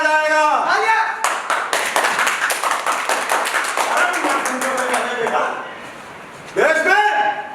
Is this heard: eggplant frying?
no